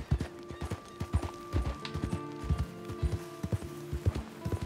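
Horse hooves clip-clop at a steady trotting rhythm in the video game Red Dead Redemption 2, close and continuous over soft sustained background tones.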